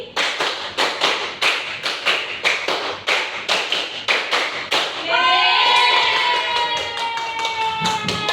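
Rhythmic hand clapping by a group of pupils in a primary school classroom game, about a dozen sharp claps in counted bursts, then a shift to sustained high whistling or sung tones.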